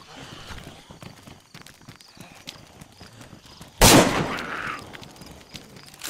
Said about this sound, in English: I'm shooting zombies right now.